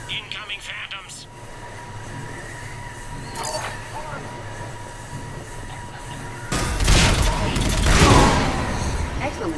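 Mass Effect 3 combat: a low rumbling backdrop with scattered weapon shots gives way near the end to a loud, dense burst of gunfire and impacts, while voices talk over the action.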